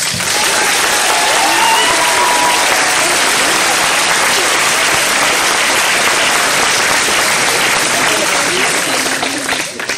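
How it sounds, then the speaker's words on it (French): Sustained, loud applause from a large audience in a hall for Madame Simon and Madame Paulin, a continuous wash of clapping with occasional voices mixed in, holding steady for the whole stretch. "je vais vous demander encore une fois de les applaudir"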